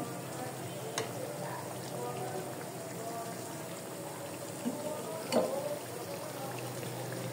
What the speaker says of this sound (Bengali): আমি ভাজা শুরু করে দিচ্ছি, এ সাইড হয়ে গেছে, আর এ সাইড উল্টে উল্টে দিচ্ছি